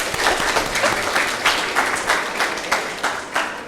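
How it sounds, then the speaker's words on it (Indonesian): Audience applause at a Catholic church talk show, a steady patter of many hands with rhythmic bursts of claps rising every half second or so, fairly close and alone without talk. "Tepuk tangan dong."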